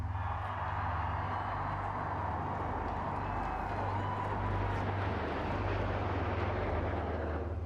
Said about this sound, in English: As a squadron of jets from the Royal Air Force make a pass over Buckingham Palace